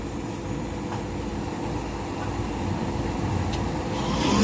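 A heavy truck labors to pull away on an uphill road, its engine a steady low drone that gradually grows louder, with no voices over it.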